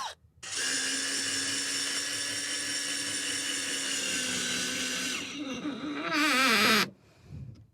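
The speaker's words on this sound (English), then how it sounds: "I'm going to do a little pre-drilling and screw it in." A power drill pre-drills a floor board inside a van conversion, running at a steady high whine for about five seconds, then dipping and rising in pitch as it bites and slows before stopping.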